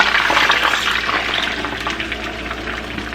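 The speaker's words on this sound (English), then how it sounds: "After removing the chicken, go ahead and pour your marinade in here." Chicken adobo marinade poured into a pan, a steady liquid splashing and sizzling rush that starts loud and eases slightly as the pour continues.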